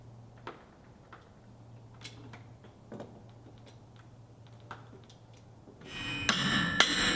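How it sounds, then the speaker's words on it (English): Long half-inch bolts being driven into a wooden beam for a barn chandelier frame, heard as a series of sharp, spaced hammer strikes over a faint hum, ending in a louder, dense burst of clattering noise. "Drove in some long 1/2-inch bolts and got them bolted down"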